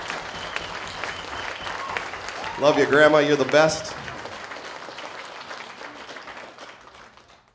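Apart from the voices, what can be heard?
audience applause at concert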